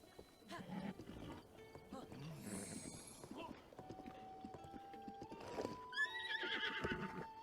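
A horse in the game Zelda: Breath of the Wild gives a bright, shrill whinny near the end, following a stretch of hoof clip-clops and game sounds, with someone talking over parts of it.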